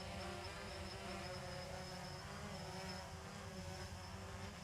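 A Develop Air HP drone in flight gives off a steady, high-pitched propeller whine with a sustained tonal hum, fairly faint and unbroken, with no voices over it.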